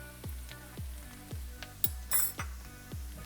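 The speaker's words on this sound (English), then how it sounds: "We're gonna mix this together." Stuffing being mixed with salt and pepper in a bowl, giving a steady series of soft, regular knocks and clinks of a utensil against the bowl, close and fairly quiet, with no talking.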